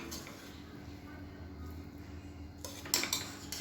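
A spoon stirs cooked mint rice in a pot, a faint low background giving way to a few sharp metal clinks and scrapes near the end.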